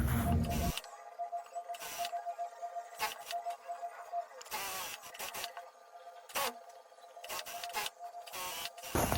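A sewing machine stitches the side seams of a pillowcase in repeated bursts of fast, buzzing mechanical whirring with short pauses between runs, close and fairly quiet.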